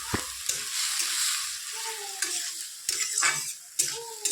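Sliced bitter gourd and potato fry in a pan, giving a steady, close sizzle broken by repeated scraping stirs of a utensil against the pan.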